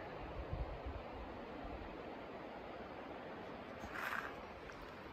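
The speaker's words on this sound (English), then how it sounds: "the Muskoka River." The Muskoka River flowing in winter, a steady broadband rush of moving water heard from nearby, constant throughout with a brief swell near the end and no voices.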